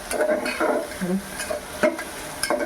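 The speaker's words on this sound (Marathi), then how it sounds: "कांदा टोमॅटो जरा शिजला का" Onion and tomato frying in a pan for khichdi, a steady sizzle broken by several spoon strokes and scrapes, close and moderately loud with no talking.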